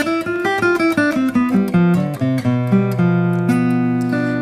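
Plucked guitar notes climb and fall through the Mixolydian mode, each note distinct and ringing, ending on sustained chord tones; no voices.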